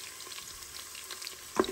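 Olive oil heats in the hot metal pot of a Cookeo cooker. It gives a soft, close, steady sizzle with faint crackles and one brief louder spit near the end.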